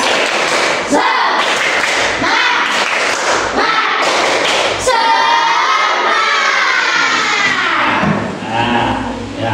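A school class does tepuk semangat, a rhythmic spirit clap, with sharp claps and thumps in a patterned beat. The clapping gives way to a teacher's voice and the children chanting along.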